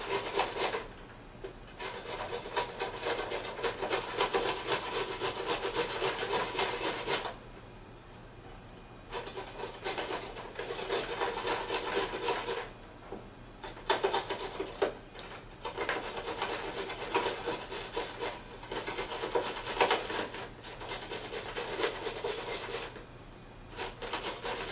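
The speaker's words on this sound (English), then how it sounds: "You always want to be careful when you're grating so that you don't nick your finger." Carrots rubbed against a metal grater for salad, a continuous rasping scrape in long strokes broken by a few short pauses, close and steady with no talking.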